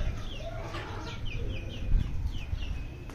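A hen clucks in a yard with a flock of chickens, a series of short, rising, squawky clucks repeating in a steady rhythm, fairly close over low background noise.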